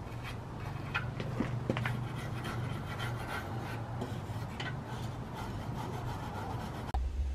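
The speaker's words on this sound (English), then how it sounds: "Time to scrape." Steady, close scraping on a big red Chevrolet Suburban being stripped down in a garage, a continuous gritty rasp with a few sharper scratches and a low hum beneath, ending in a brief knock.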